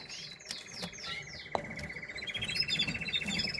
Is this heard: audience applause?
no